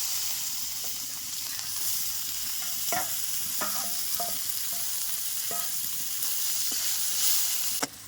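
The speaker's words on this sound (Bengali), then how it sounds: "তেলের উপরে দিয়ে দিচ্ছি পেঁয়াজ কুচি" Chopped onions hit hot oil with cumin seeds, making a continuous close sizzle punctuated by sparse clinks and scrapes of a spatula against the pan, no speech.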